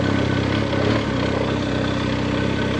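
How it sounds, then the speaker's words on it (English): A BMW adventure motorcycle lugs at very low revs on North Carolina dirt roads, giving a loud, close, deep, steady engine thrum mixed with wind rush and no pauses. "you can lug this thing down to where it's just about to stop. Roll the throttle a little bit, she picks up and goes on."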